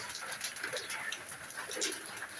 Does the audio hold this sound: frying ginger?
no